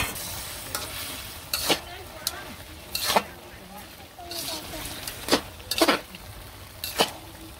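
Fish heads sizzle steadily in a pan while a utensil stirs them, with sharp intermittent scraping bursts over a low frying hiss.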